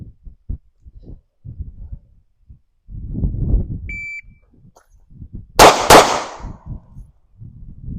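Two gunshots fired in quick succession during a timed shooting drill, loud and sharp, preceded by a brief shot-timer beep and low ambient noise, with no talking.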